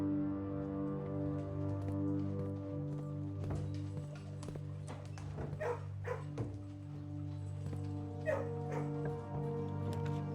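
Dogs in a video game kennel bark and yip in scattered bursts over a steady humming background tone, with a few whimpers, close and moderately loud.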